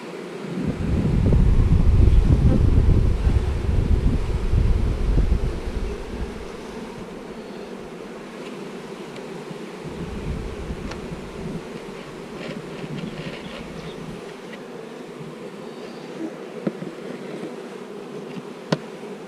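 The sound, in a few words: buzzing bees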